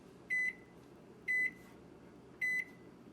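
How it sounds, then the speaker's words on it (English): A kitchen timer being set for 25 minutes gives three short, bright electronic beeps at about one-second intervals, close and clear over faint room hiss. "I'm going to set our timer for 25 minutes."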